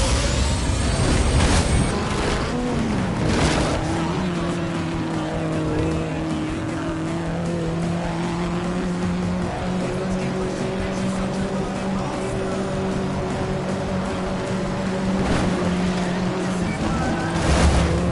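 Engine of an upgraded truck in a PS4 racing game roars steadily, its revving pitch sustained and climbing, with occasional tire squeal and impact bursts near the start and end.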